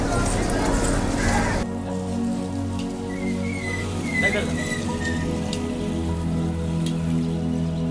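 Heavy rain falls outside in Rameshwaram, a dense hiss that is loud at first, then drops to a steadier patter under a low hum, with a few faint bird calls.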